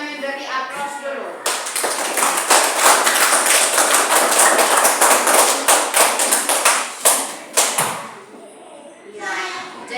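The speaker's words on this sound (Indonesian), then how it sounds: "Kita memberi aplaus dulu." A class of fifth-grade children at an elementary school applauds together for about six seconds, a dense, lively clapping that tapers into a few final claps, with a voice briefly before and after.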